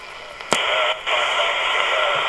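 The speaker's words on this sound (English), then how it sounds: "There is an AM station on 70 on 3 megs." AM station received around 3 MHz on a Harris RF2305 HF receiver, its faint modulated signal buried in a steady bed of radio hiss, with brief static crackles and a momentary dropout.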